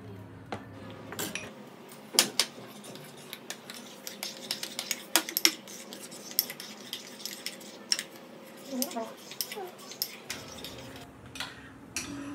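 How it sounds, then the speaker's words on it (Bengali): Spoon stirring Amul milk powder into hot milk, with scattered sharp metallic clinks and scrapes against the container at an irregular pace, fairly close and quiet. "এবার গরম দুধ দিয়ে একটু আমল দুধটা গুলিয়ে নেবো।"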